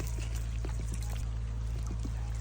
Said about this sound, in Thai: เดี๋ยวผมเอาน้ำมาล้างให้ดูว่า ส่วนที่รากเขาออกอะ่ะเขาออกได้ยังไง